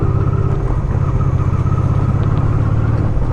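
Motorcycle riding over a rough cobblestone road toward a castle, its engine droning steadily and close with constant rattling vibration from the bumpy surface, with no talk.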